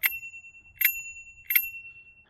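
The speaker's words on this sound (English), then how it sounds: "And then over here, they give you a bell." Three bright bell dings from the handlebar bell of a VARLA Eagle dual-motor electric scooter, evenly spaced about three-quarters of a second apart, each ringing out clearly and decaying, heard alone up close.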